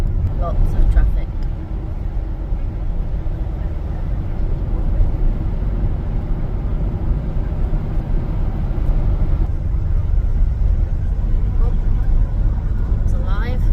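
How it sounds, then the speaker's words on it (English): Steady road noise and engine rumble from inside a car on a motorway heading toward the Dartford crossing, a continuous low drone with a few brief knocks and no clear talk. "Lots of traffic."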